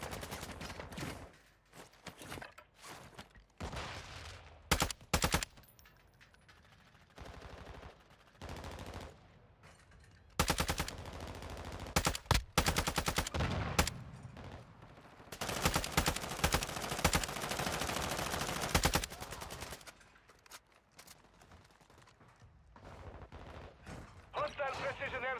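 Gunfire in Call of Duty: Warzone 2: loud bursts of automatic fire and single shots come in clusters, with short gaps and a long stretch of sustained shooting, under game voice callouts.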